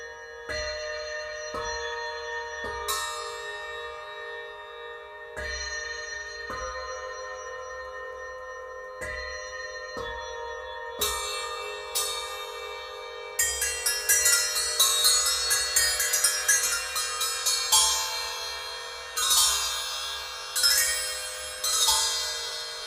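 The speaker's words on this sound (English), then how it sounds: "these are cup chimes, and they're useful for the multi-percussionist or the drum set player, or a nice exotic bell type sound" Paiste cup chimes, small exotic bell-like percussion, are struck in a series of bright ringing strikes that start sparse and build into a dense, shimmering cluster of overlapping metallic tones with long sustains, played alone.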